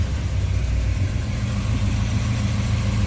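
1969 Chevrolet Chevelle with a 396 engine idling after a push start, a steady low rumbling idle heard close and loud, continuous with no talk.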